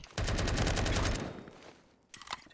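A rapid burst of automatic gunfire from a gun in the Roblox game Phantom Forces rattles close and loud for about a second, then trails off, followed by a few faint clicks.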